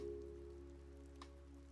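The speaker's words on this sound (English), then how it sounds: "while it's raining, we might as well plant some stuff" Rain in House Flipper, a home renovation video game, makes a soft, steady patter on surfaces over a constant low hum. It is faint and even throughout, with one small tap near the end.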